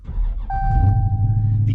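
A 1970 Dodge Dart Swinger with a 340 engine running close by, a deep, loud, continuous low rumble with a thin steady whine laid over most of it.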